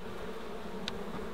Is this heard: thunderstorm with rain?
no